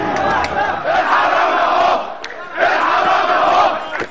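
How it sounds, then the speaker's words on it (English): Thousands of protesters fill the streets, chanting in unison for the president to step down, a loud, dense crowd roar that rises and swells in waves. "Tanks rolled through the streets as thousands chanted for President Hosni Mubarak to step down."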